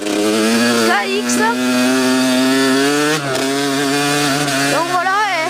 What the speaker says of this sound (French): donc ma moto est une Kawasaki 65 KX.